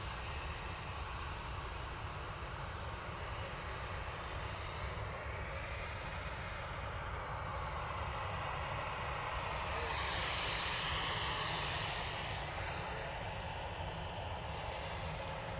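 A Ryanair airliner lines up for takeoff at Manchester Airport, its jet engines making a continuous broad roar with a swelling whine, loud and steady throughout and heard without speech.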